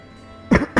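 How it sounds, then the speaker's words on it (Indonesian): Two quick, close coughs from one person, the first heavier and the second shorter, after a brief quiet moment. "Sorry gue batuk"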